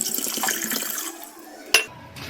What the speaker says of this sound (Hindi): और साथ में उतना पानी डालेंगे जिसमें कचालू डूब जाए